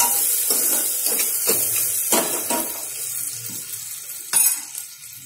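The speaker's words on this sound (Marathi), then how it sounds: "याला छान परतून घ्यायची." Tinda (Indian round gourd) sautéing in a pan for dal dhemase, with a steady sizzle and hiss and a few clinks of a utensil against the pan.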